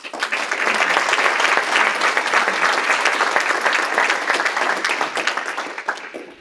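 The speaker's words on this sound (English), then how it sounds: "please join me in a round of applause for Mr." Audience applause fills a hall at the EnerGIS 2022 conference, a loud, sustained wash of many hands clapping for about six seconds before tapering off.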